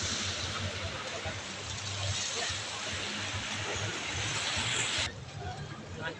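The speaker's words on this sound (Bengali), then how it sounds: "আপনারা কি শুনতে পাচ্ছেন কি পরিমাণ ঢেউয়ের সাউন্ড হচ্ছে?" Steady broadband rush of water waves at Mall's Park at night, a continuous washing surge heard close and fairly loud, dropping slightly near the end.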